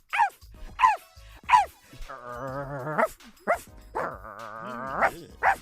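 A person mimics a dog: several short, sharp yips and barks followed by two longer, drawn-out whining howls, close and fairly loud.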